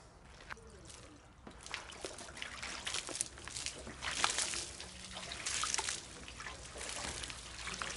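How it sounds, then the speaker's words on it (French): Clear water rinsing a car body during a red paint job done outdoors, heard as an uneven trickle and splash of running water that swells and fades, fairly close, with no talk. "On va rincer à l'eau claire."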